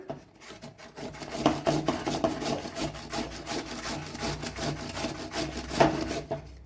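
Peeled sweet potato rubbed against a grater, a steady rasping, scraping run of strokes with no talking, close and fairly soft.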